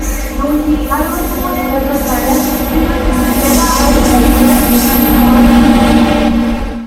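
The Veraval Express (16334), a Kerala-to-Gujarat train, rumbles steadily along the rails, a loud continuous roar with a low droning hum and faint squealing, running the whole time without a break.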